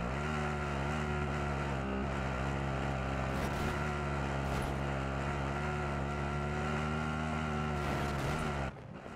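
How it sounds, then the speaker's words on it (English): A steady, droning helicopter rotor-and-engine hum in the video game Warzone, with dense harmonic layers, runs continuously, loud and close, then cuts off abruptly near the end. "that's my helicopter"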